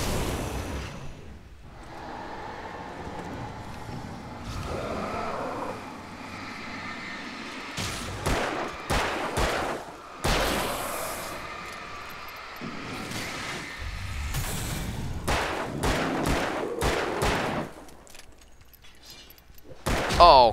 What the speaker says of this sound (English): Suck, flare gun!